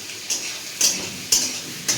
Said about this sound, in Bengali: এক মিনিটের জন্য ভাজতে দিলাম